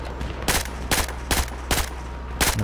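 Gunfire in Battlefield 4 comes in five evenly spaced loud bursts, each a short, sharp crack cluster separated by brief pauses, with no talking over it.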